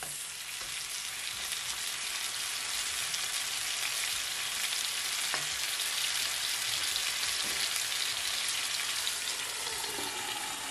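Jamaican brown stew chicken fries in a covered pot, giving off a loud, dense and continuous sizzle that sprays liquid. The hissing crackle stays steady and close, with no voices over it.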